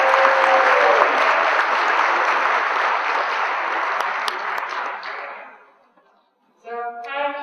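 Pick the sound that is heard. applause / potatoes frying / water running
applause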